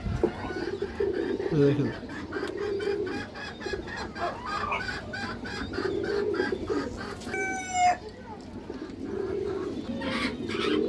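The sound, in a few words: Army breed female pigeon cooing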